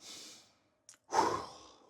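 A person demonstrating fearful breathing: a quiet shaky breath, a pause, a brief catch, then a louder sharp gasping inhale that trails off, close and alone with no talk.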